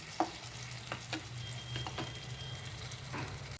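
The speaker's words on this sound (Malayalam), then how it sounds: "നമുക്കിതൊന്ന് തിളപ്പിച്ച് അതുപോലെ അതൊന്ന് ഇളക്കി കൊടുത്ത് തിളപ്പിച്ചെടുക്കാം" A boiling sauce mix for potato 65 bubbles and sizzles steadily in a pan at low volume, with a few soft scrapes from stirring and a sharp knock at the very end.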